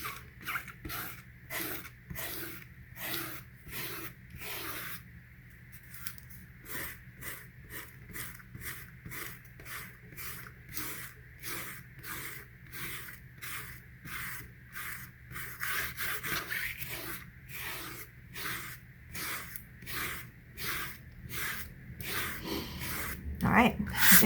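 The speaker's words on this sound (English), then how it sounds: "So this crepe eraser really does the job nicely" A crepe eraser rubbing dried masking fluid off watercolor paper, heard as rapid, rhythmic scrubbing strokes, close and steady, with a short pause in the middle and a livelier stretch later on.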